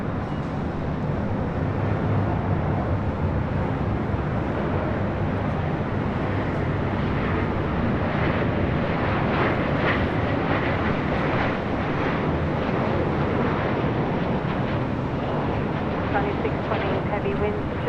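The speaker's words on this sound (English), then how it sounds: "Next arrival here on the north side, United Airlines Flight 2166 coming from SFO at a" A United Airlines Boeing 737-900ER from SFO arriving on the north side at LAX, its steady broadband jet roar rising and holding for a long stretch as a commentator talks over it.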